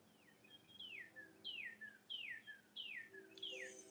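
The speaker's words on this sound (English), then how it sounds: "all you hear right now is mockingbirds" Mockingbird song rings out as a run of repeated, sharply descending whistled phrases, four or five in quick succession, fairly clear against a quiet background with faint distant bird calls.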